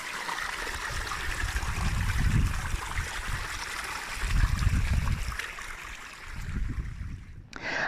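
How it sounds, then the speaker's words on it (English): Clear mountain water flows down a stream at St. Patrick's Shrine among moss and ferns, a steady rushing wash with gentle surges of deeper gurgling, close by and with no voices. "the beautiful clear water that we've seen all the way along coming down the mountain"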